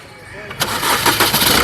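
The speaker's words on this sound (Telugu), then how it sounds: "ఎక్బార్ ఇంజన్ స్టార్ట్ కరో." A 2017 Maruti Suzuki Swift Dzire ZDI Plus engine cranks briefly and fires up around the midpoint, then settles into a steady, close idle with voices talking over it.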